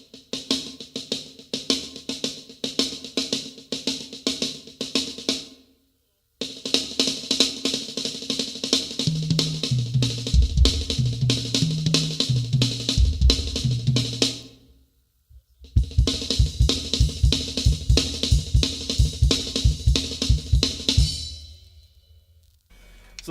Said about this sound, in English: you can use to do very crazy drum sheds and solos is the inverted paradiddle